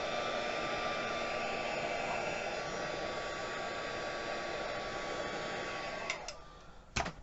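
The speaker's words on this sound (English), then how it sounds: "I'm just going to hit it with my heat gun to make sure that it's dry" A heat gun blows steadily on stiffened string for a drying pass, giving a loud, close, continuous whirring hiss that holds for several seconds before switching off, followed by a couple of light knocks.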